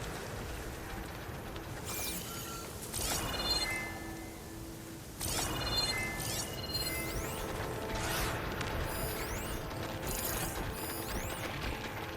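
Tallneck, a giant long-necked robot machine in Horizon Forbidden West, moving with heavy mechanical ratcheting, grinding gears and clanking, loud and continuous with metallic pulses and surges throughout.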